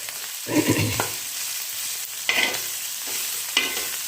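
Cauliflower cooks in a pan on a tawa, giving a soft, quiet sizzle broken by a few brief spatula stirs and scrapes. No one speaks.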